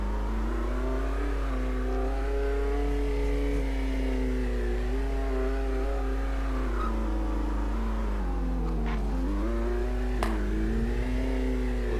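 A car engine in a Roblox driving game revs steadily for the whole stretch, its pitch climbing and dipping as the car speeds up and slows, loud and close, with no talking over it.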